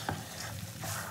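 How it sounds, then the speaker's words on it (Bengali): Peas ghugni sizzles in a pan while a spoon scrapes through it in a couple of quick stirring strokes, close up and soft. "মটরটা দিয়ে খুব ভালো করে কষিয়ে নিয়ে"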